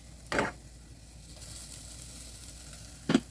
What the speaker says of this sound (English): I pour in half a tablespoon of oil just to brown this onion a little bit